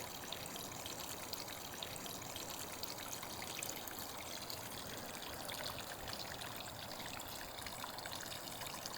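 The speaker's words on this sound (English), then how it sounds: "It's also very nice to have the sound of running water back on the property" Running water from a creek filling a pond on a farm in Norway makes a faint, steady trickling and babbling, continuous and without talk.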